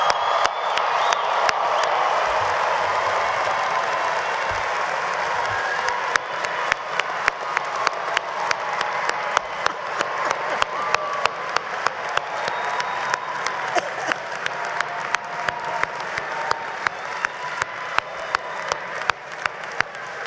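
Families and friends at a spring commencement for a college of agricultural sciences clap steadily for graduates, a dense sustained roar of applause with scattered whoops and cheers that carries on for about twenty seconds.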